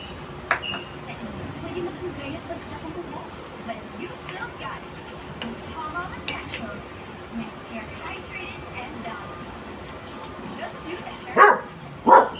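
Two loud dog barks near the end, after a long stretch of quiet background with faint scattered noises and soft distant sounds.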